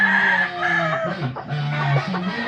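Several chickens and roosters cluck and call close by in overlapping, irregular bursts, with a few drawn-out crowing notes among them.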